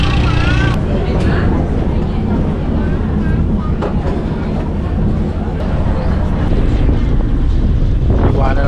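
Strong sea wind buffets the microphone aboard a boat leaving Mindoro, a loud, constant rumbling roar with engine and water noise beneath and people talking over it.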